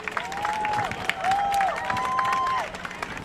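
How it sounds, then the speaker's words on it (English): An audience at a school performing arts center applauds. Clapping and crowd noise rise under a speaker's voice for a few seconds. "if we can give a big round of applause for our administrators"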